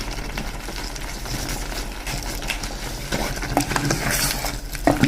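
Chicken and tinda masala being mixed in a pan, the spoon scraping and clinking against the metal over a steady sizzle, with sharper taps of utensil on pan toward the end.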